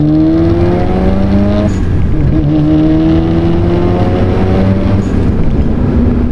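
A turbo-swapped Mazda RX-7 accelerates hard, its loud engine note climbing through rising harmonic sweeps and dropping briefly at a gear change before climbing again, heard close and continuous with no talking.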